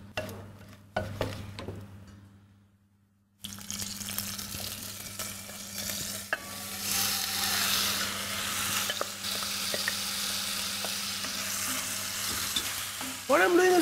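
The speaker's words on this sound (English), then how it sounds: "What I'm doing is I'm just quickly sauteing the vegetables" Vegetables for a Thai curry, seasoned with salt and red chili powder, sautéed quickly in a pan: after a brief quiet gap, a strong continuous sizzle with occasional stirring clatter, no talking.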